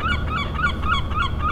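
A gull calls in a series of harsh, honking cries, about five or six repeated notes in quick rhythm, close and clear over a low background rumble.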